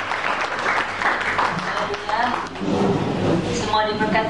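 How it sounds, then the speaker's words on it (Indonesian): A church congregation at a revival service applauds enthusiastically, a steady dense patter lasting several seconds while a voice talks over it. "Kita tepuk tangan yang paling meriah."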